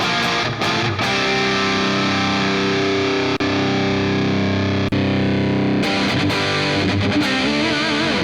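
A heavily distorted electric guitar played through an AX8 with a little reverb plays sustained chords and notes, loud and steady with a brief drop or two, no voices.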